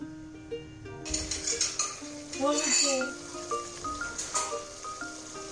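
Spicy butt karahi is stir-fried in a pan. Metal scrapes and clinks of utensil against pan come in uneven bursts over a soft sizzle, close and fairly quiet, with faint voices here and there.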